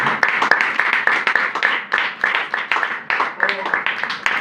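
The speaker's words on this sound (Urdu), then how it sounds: "ان کے لیے بھی زوردار تالی۔" An audience claps during a church baptism teaching, a dense run of close, sharp handclaps pulsing steadily throughout.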